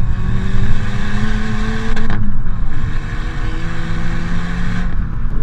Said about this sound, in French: la sonorité à l'échappement